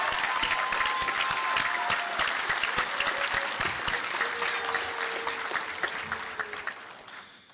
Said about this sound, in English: Again, round of applause,